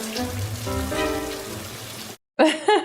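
Rain falls steadily in a film scene, a continuous hiss beneath a low rumble and tonal score, cutting off briefly before sharp, loud sounds resume.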